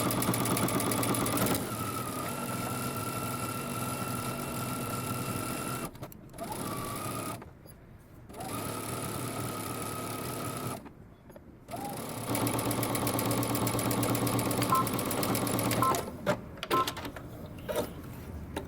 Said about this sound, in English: take this to the sewing machine, and we're going to stitch down the entire center back using 5/8 of an inch seam allowance